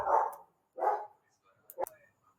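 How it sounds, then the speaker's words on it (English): Dogs bark nearby in a home during a law lecture, two loud separate woofs followed by a shorter yip, with silence between them. "Sorry for the dogs."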